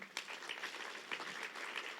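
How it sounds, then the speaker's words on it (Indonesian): A church congregation claps for about two seconds during a worship service, a moderate, steady patter of many hands with a slightly sharper burst near the start. "Boleh tepuk tangan bagi Tuhan kita?"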